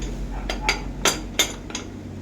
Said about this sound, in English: use our adjustable wrench to tighten it further.